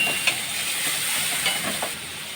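Chopped onion, tomato and shrimp frying in a pan make a soft, steady hiss with a few faint stirring taps, heard close and alone.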